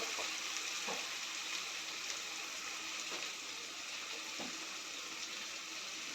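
Spices and potatoes frying in a pan for a Bengali doi katla fish curry, giving a steady, soft, even sizzle with a few faint clinks of stirring and no voices.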